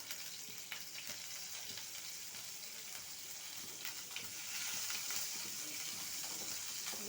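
Green chilies and cumin fry in hot oil for a lentil and drumstick-leaf sambar, giving a soft continuous sizzle and crackle that swells slightly toward the end, with no talk.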